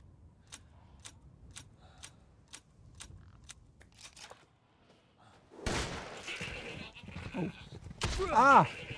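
Goats bleat in short nasal calls near the end, after a run of regular thumping taps and a burst of rustling clatter, in the video game Resident Evil Village.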